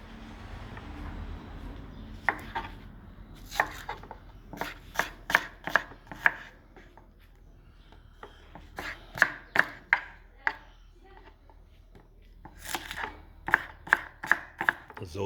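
A knife chops onions on a board in a string of sharp, close knocks that come in quick clusters separated by short pauses. The sound is clear and crisp against a quiet room.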